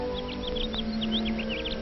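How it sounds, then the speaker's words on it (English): Small birds twitter in quick, high chirps scattered across the short stretch at dawn, moderately near over a steady low hum in the background. "The birds twitter."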